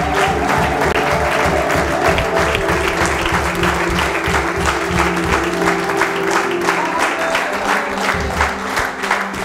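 A church congregation applauds loudly and steadily, dense sustained clapping from a large crowd that tapers slightly near the end, with faint voices mixed in.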